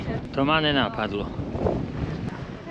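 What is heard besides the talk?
wind blowing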